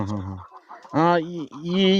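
BV-380 laying hens on a small poultry farm cluck and call in short bursts, fairly close, with human voices mixed in among the birds.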